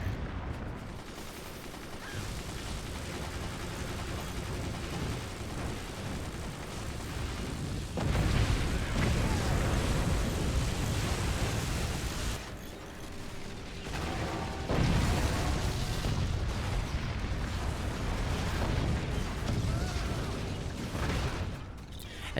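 Artillery howitzer shots and a crumbling fort in a video game: dense, continuous booming and rumbling with heavy low-end swells, strongest around the middle and later stretches, with no pause in the din.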